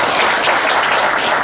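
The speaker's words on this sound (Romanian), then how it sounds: "să-l aplaudăm și încă o dată felicitări pe el" Dense, loud applause from an audience at a municipal award ceremony in Călărași honoring a local police officer, a steady wash of clapping that fills the whole stretch without pause.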